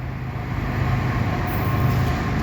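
An eastbound CN freight train rolls past at Milepost 75 on the Dundas Subdivision in London, Ontario, a steady, loud rumble of rail cars with a low, continuous roar and faint wheel clatter, no voices.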